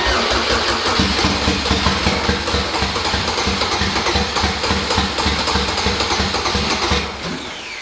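A boosted Honda K20 engine in a Civic cranking with a rapid, rhythmic churn and then catching, loud and close, before easing off near the end.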